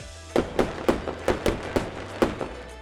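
Fireworks going off in a quick run of about nine sharp bangs and crackles, evenly spaced and fairly close, over a low steady background hum.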